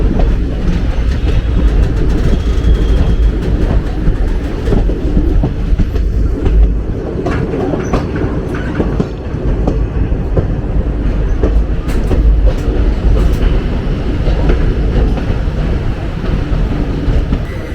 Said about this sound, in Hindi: प्लेटफॉर्म नंबर 2 पर हमारी ट्रेन का अराइवल हो रहा है बेंगलोर सिटी में